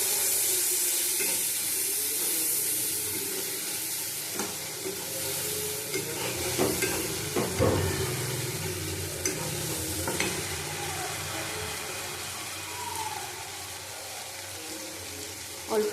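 Kashmiri chili powder and spices stirred in a frying pan, a soft steady sizzle with scraping stir strokes and a few louder clatters, fairly quiet and without talk.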